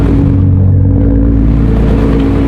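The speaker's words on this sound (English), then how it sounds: "Give me a rev." A Nissan GT-R engine rumbles loud and close in Hawaii, holding a deep, steady roar throughout without a clear rise or fall.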